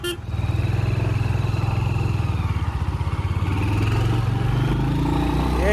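A Royal Enfield Hunter 350 motorcycle engine while riding, a steady close thumping single-cylinder beat with a faint rising whine, holding a loud even rhythm throughout.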